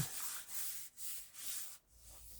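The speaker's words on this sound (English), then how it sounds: "I'm going to give it a little rub down" Paper being rubbed down over a rubber stamp with a cloth pad, a few soft, close brushing strokes in quick succession, each a short hissy swipe with brief pauses between.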